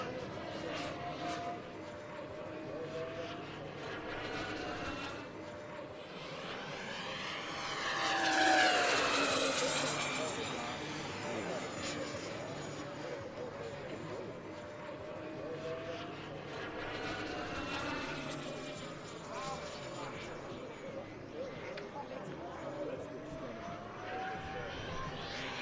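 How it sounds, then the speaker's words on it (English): A Freewing Mirage 2000 electric ducted fan RC jet whooshes overhead through rolls, a steady distant whine swelling to a louder rushing pass midway before settling back, under outdoor ambience. "Always makes such a good noise when you do that."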